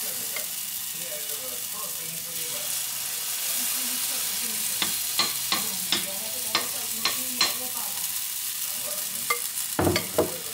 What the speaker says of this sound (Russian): Теперь мы переворачиваем наши оладушки и также обжариваем с другой стороны.